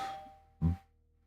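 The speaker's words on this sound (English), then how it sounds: "My doorbell just rang." A single doorbell chime rings out briefly and fairly faintly indoors, standing alone against a quiet background with a low steady hum.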